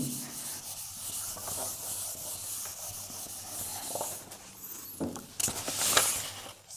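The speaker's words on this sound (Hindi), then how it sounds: "एक बार रब कर देते हैं" Writing is being rubbed out by hand. A soft, continuous scratchy rubbing runs faint and close throughout, swelling into a few louder strokes toward the end.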